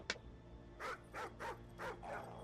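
A dog in the Call of Duty video game: one sharp yip followed by four evenly spaced barks, moderately loud against a low game background.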